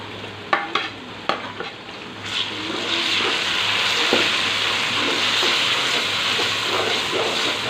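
Tomatoes fry in a pan with onion, ginger and garlic, giving a steady, close hiss and sizzle, with a few sharp stirring clinks near the start.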